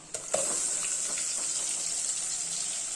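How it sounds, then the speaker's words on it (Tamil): Ground onion paste goes into a hot pan with oil, giving a quick splash. A steady sizzling hiss follows and carries on, fairly faint. "இப்போ அரைச்ச விழுத இதில் ஊற்றிக்கலாம்"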